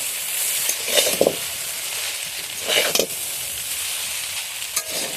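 Egg chicken chowmein being stir-fried with meat masala: steady close sizzle with a few scraping, clattering stirs around one, three and near five seconds, no voices.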